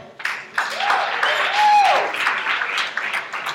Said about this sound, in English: Professional clapping right there.